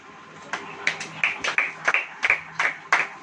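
A church congregation claps in a loose, uneven rhythm during a sermon, about a dozen distinct claps spread over a few seconds, fairly faint and sparse rather than a full ovation.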